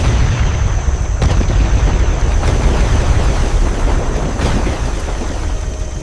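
A massive explosion roars as a loud, sustained rumble with deep booming low end, heard alone without voices.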